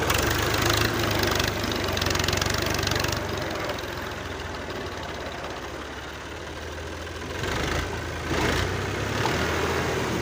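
A tractor engine chugs steadily nearby, its rumble dipping slightly in the middle before rising again; no one speaks.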